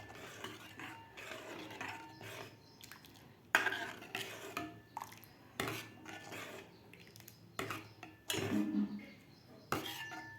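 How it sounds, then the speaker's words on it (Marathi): Ragi flour porridge stirred steadily in a pot over medium heat, with repeated spoon scrapes and clinks against the metal and several sharper knocks, close and moderately loud, with no talking. "एकसारखं याला हलवत राहायचं आहे"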